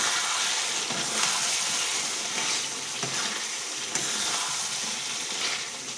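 Chicken curry frying in a pot just as water goes in, a dense hissing sizzle with a few soft stirring knocks, steady and fairly close, with no talking.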